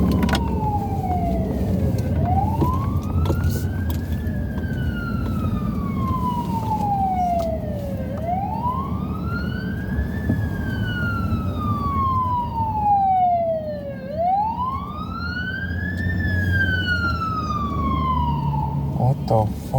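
An emergency siren wails in long rising and falling sweeps, loud and continuous over traffic noise, with voices talking underneath; the siren is not from a real ambulance.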